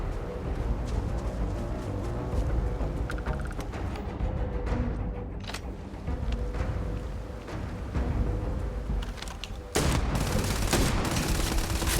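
Gunfire in the Starfield space role-playing game, repeated shots and bursts against a steady background of game ambience, with a sudden louder, harsher stretch near the end.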